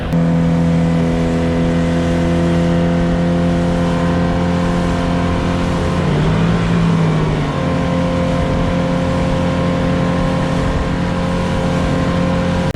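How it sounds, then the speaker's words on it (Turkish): An outboard boat motor runs steadily and loudly up close with a strong humming tone, shifting briefly in pitch and roughness partway through as the trim is raised, then settling back to an even drone. "Şimdi trimi yavaş yavaş kaldıracağım."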